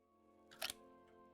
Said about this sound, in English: What's with the camera shutter?